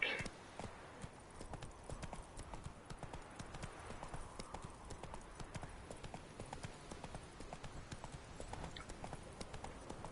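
Horse hooves clip-clopping steadily on ground in The Witcher 3, a continuous trotting rhythm at moderate level, with game ambience and faint speech underneath.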